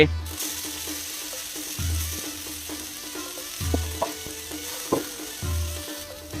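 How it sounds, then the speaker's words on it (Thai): Glass noodles and garlic stir-fried in a hot wok, with a steady sizzle, repeated scraping and clinking of a utensil against the metal in uneven bursts, and no voices. "ผัดให้หอมๆเนาะ เสร็จแล้วก็ใส่เส้นลงไป"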